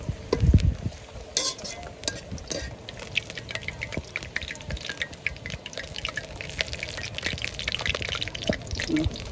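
Sliced onions for beresta frying in oil while being stirred, a constant close sizzle broken by scraping and clicking strokes of a spoon against the pan, with no one talking.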